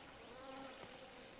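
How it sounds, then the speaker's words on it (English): Bees buzzing in the video game Everybody's Gone To The Rapture, a steady close insect drone holding through the whole short stretch with faint ambient hiss. "somebody keeps bees. And it seems like the bees stayed behind."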